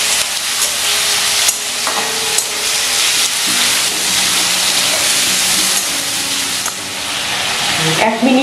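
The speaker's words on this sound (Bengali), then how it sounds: "আমি একসাথেই সব চিংড়ি মাছগুলো তেলে দিয়ে ভেজে নিচ্ছি" Prawns fry together in hot oil in a pan, a loud continuous sizzle and hiss with clinks and scrapes of stirring throughout.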